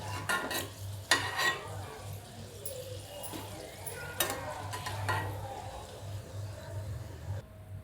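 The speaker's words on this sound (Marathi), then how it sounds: "असं मी तळून घेते" Pea-filled karanji pastries frying in hot oil, a low sizzle under clattering utensil stirs and scrapes against the pan, several sharp knocks early on, then quieter toward the end.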